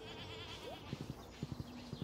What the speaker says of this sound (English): Okay, yeah, this is a sheep. Oh, that's a goat.